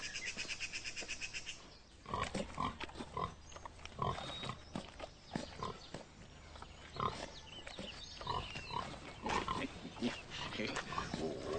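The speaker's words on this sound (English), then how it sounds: "The finest pig in the county." Prize pig on a country estate, grunting and snuffling close by in a series of short, irregular oinks while people talk over the animal noises throughout.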